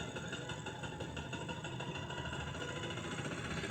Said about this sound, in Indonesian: Nah, kita lihat lagi tuh mesinnya jalan ke sini